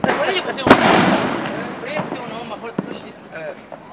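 New Year's fireworks and firecrackers bursting outdoors, with one sharp loud bang early followed by scattered smaller pops further off, while people talk over the noise.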